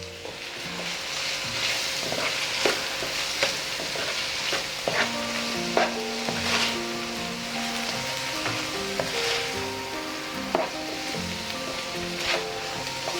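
Chicken sizzles in a pan as vinegar and soy sauce are stirred in, giving a continuous crackling fry with clinking, scraping spatula strokes throughout; no talking.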